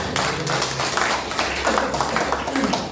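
An audience at a neighborhood community forum gathering in a ward office claps steadily in a dense, moderately loud patter without pause.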